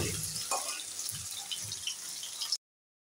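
Diced potatoes fry in hot oil in a home kitchen, giving a soft, steady sizzle with a few low bumps from stirring. The sound is fairly faint and stops abruptly before the end.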